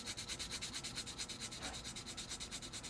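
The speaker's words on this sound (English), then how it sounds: "Now resin sands a lot quicker and smoother than plastic, so it's best to do a little at a time." Steady, rhythmic rubbing strokes of abrasive on a resin model car part, a Mini C1 Sunny kit build, close and continuous with an even back-and-forth scratch and no talk.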